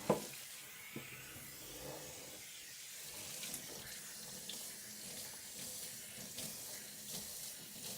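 Tap water running into a sink in a home kitchen while breakfast is being made, a steady broadband hiss with small clatters and splashes over eight seconds, no voices.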